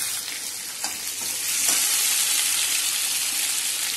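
Carrot pieces, green chilies and curry leaves sizzle and crackle in hot oil for sambar, a loud continuous frying hiss that swells slightly partway through as the pan is stirred.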